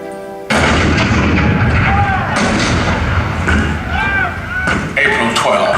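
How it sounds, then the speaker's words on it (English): Cannon fire at Fort Sumter in 1861, staged as a show sound effect: loud booming blasts, one after another, followed by a rumbling barrage with scattered crackles and high whistling, close and dense throughout. "The cannon spoke for war, bitter, violent, and devastating."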